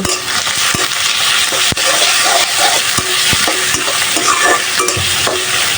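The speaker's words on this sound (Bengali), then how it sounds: "পেঁয়াজ আর আদা একটু হালকা একটু বেজে তারপর এগুলো দিয়ে দিব" Onion and ginger frying in a pan and stirred with a spatula, loud close sizzling throughout with repeated sharp scraping and tapping strokes against the pan.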